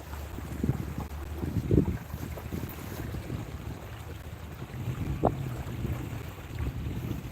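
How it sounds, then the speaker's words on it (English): Wind blowing outdoors by a flooded cove during catfish fishing, a continuous rushing roar buffeting the microphone with low rumbling gusts and faint water lapping underneath. "No, it's mainly just the wind"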